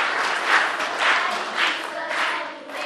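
An audience in a church gathering claps in several rolling waves of applause, moderately loud and fairly close, with murmured voices mixed in.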